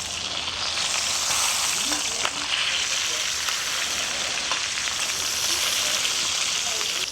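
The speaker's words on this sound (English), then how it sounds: "The slow rendering of the fat really allows it to crisp up, and you get as much fat out of the skin as possible." Skin-on meat frying in a pan for paella, its fat slowly rendering out, makes a loud, steady sizzle that holds evenly throughout, with a few faint clicks of stirring.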